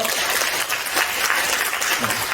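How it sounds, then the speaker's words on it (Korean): Steady applause from a seminar audience welcoming a presenter at an academic talk on Korean history textbooks, dense and continuous clapping filling the room for a couple of seconds. "박수로 맞이해 주시죠."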